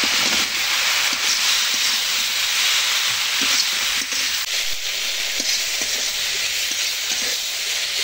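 Eggplant pieces added to a spice masala and frying in a pan, a loud, dense, constant sizzle and hiss with occasional soft stirring scrapes, close up and with no talk.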